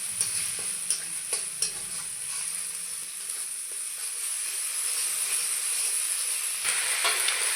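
Spices and ground peanuts fry in a pan, with a steady close sizzle, spattering pops and scraping stir strokes that are more active early on and ease later.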